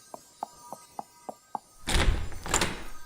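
Six evenly spaced, crisp knocks on a door in a dramatic reading, fairly close, followed by a louder heavy thud and rumble as the door is handled.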